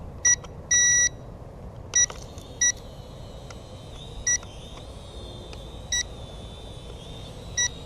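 A DJI Mavic drone sounds short high-pitched battery warning beeps, first in quick pairs and then in single spaced chirps. A faint steady tone runs under them, with no talk.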